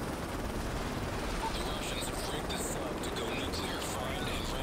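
MP7 submachine gun firing at a very high rate in Modern Warfare 3 Spec Ops, Over Reactor mission: dense, continuous gunfire and battle noise, loud and unbroken throughout.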